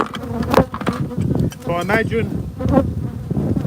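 Bees buzz around an open beehive during feeding, a close, wavering drone that rises and falls as insects pass near, with someone speaking briefly over it.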